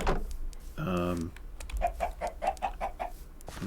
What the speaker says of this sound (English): so, yeah, we got 3 chickens down here.